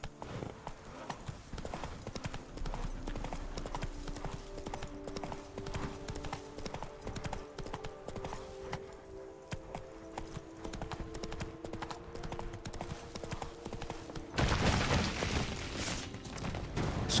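Roach, Geralt's horse in The Witcher 3: Wild Hunt, galloping with a rapid steady clatter of hooves over low game music, louder and harsher near the end.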